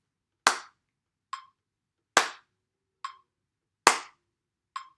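In a basic music-theory lesson, three loud percussive beats each land a beat apart and are each followed by a quieter, higher click, giving an even strong-soft pattern, isolated against silence.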